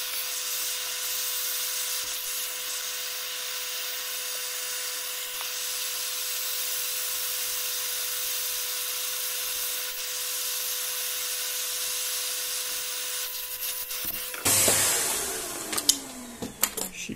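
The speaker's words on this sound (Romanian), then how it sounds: "Și acum aspirator." A vacuum cleaner sucks dust out of a Lenovo IdeaPad 320 laptop, a steady close whooshing roar with a faint whine that runs for about fourteen seconds, then cuts off, leaving a few clicks and handling knocks.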